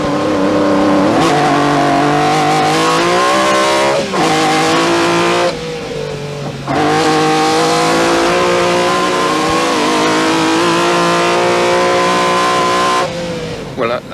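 A 1985 MG Metro 6R4 rally car engine roars loudly and continuously from inside the cabin, revving high with brief drops between gear changes.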